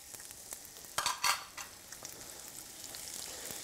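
Red onions and cremini mushrooms cooking over high heat, a soft sizzle broken by a couple of clattering stirs, then settling into a quieter steady frying hiss.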